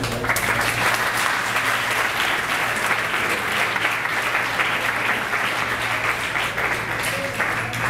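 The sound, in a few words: audience applause for speaker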